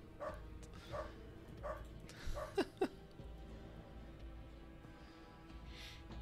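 A dog in the video game UnderRail barks several times in short, spaced yelps over the first few seconds, fairly close, then goes quiet under a low ambient hum.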